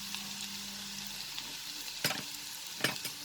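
Chopped ginger and garlic sizzle steadily in a hot pan for a chilli cauliflower dish, with a constant frying hiss broken by a few sharp stirring scrapes near the end, close and moderately loud, no voices.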